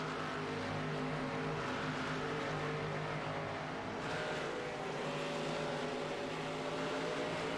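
Race car engines in the YAS Racing 100 video game at Richmond, a continuous loud droning roar with shifting pitch throughout, several cars running together, no speech.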